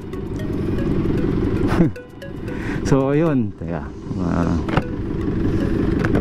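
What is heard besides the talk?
noisy engine knocking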